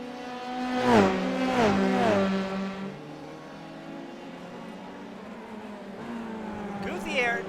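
Formula 3 race cars at Long Beach scream past one after another, engines rising and falling in pitch as each passes, followed by a quieter whir until another car approaches near the end, with commentary voices running underneath.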